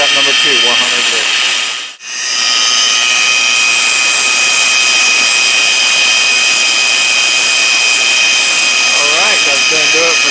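A lapidary machine grinding a rare desert gemstone on a 100 grit wheel, producing a loud, steady high-pitched whine and hiss with one brief dropout, while faint voices come through near the start and end.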